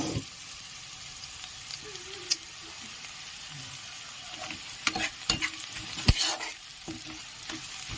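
Onions fry in hot oil with a continuous close sizzle, broken by stirring scrapes and a few sharper utensil clinks toward the end.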